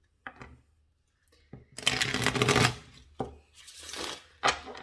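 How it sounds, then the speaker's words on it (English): Tarot cards being shuffled by hand in short separate bursts, each a brisk riffling rush followed by a pause, close and fairly quiet with no talking. "I shuffled a little bit before we started"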